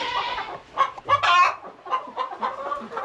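Hens cluck and squawk in the main barn of an egg-laying farm, a close, busy chorus of overlapping bursts with one louder cackling call rising in the middle.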